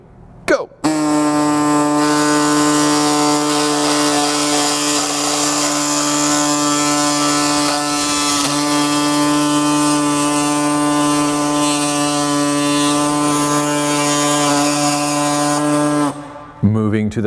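A power saw cuts a Honda Odyssey roof rail part clamped in a vise, giving a loud sustained buzzing whine for about fifteen seconds between brief bumps at the start and end.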